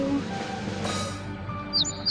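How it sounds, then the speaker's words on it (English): A sparrow chirps in the Nancy Drew game The Captive Curse, a couple of short high bright calls near the end over a steady hum of game ambience and music. "Sparrow."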